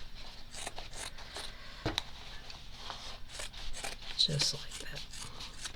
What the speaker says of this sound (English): Just cut off the legs.